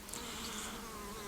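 Honeybees buzz around a top bar hive, a faint steady drone with a wavering pitch and no talking.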